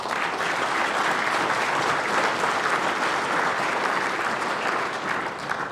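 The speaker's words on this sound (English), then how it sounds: "let's show our appreciation to PNC with a round of applause" A large audience at a Friends of Scouting fundraising dinner applauding a corporate sponsor, a continuous, even wash of many hands clapping throughout, full and sustained without any speech.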